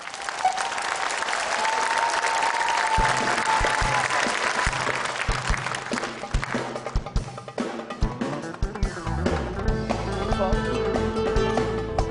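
Audience applause opening a karaoke performance on stage, a dense sustained clapping that later thins as music and a singing voice begin over it.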